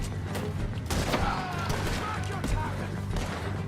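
Gunfire in the Red Dead Redemption 2 video game: a rapid burst of several sharp shots cracking close together over a low game rumble, with a voice briefly audible around them.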